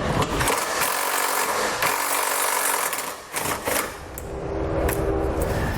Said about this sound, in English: We're going to remove this one with an 18mm.